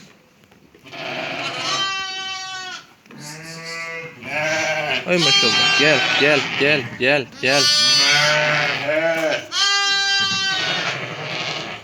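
Purple-dyed sheep and lambs on a farm in Zile bleat repeatedly, loud and close, with several overlapping calls while someone talks and calls to them.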